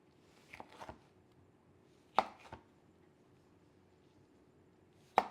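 Knife cutting the centres out of jalapenos on a board, a few sparse quiet cuts and taps spaced over several seconds, close and faint, with no talking.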